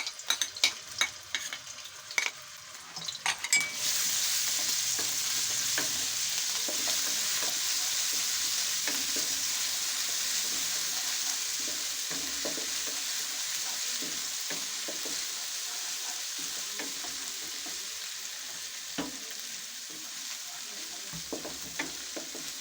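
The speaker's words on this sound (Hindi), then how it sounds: "सबसे पहले हम इसमें अदरक लहसुन और सब्ज़ मिर्चों का पेस्ट डाल देते हैं" A loud, steady sizzle of ginger, garlic and green chili paste frying in hot ghee begins after a few seconds of clatter, with scraping and stirring sounds continuing over it.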